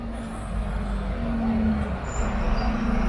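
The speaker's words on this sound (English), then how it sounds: "Here comes Diamond buses from the Midlands." A Diamond Buses coach from the Midlands pulls in at a Huddersfield rail replacement stop, its engine a steady low rumble with a faint rising whine, with background chatter and traffic around it.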